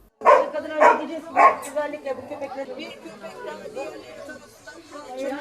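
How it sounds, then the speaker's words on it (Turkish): Several dogs on a house balcony barking loudly in a quick burst of three or four barks, then continuing as a busier jumble of yips and barks mixed with background chatter. "bir evin balkonunda 16 tane köpek gördü"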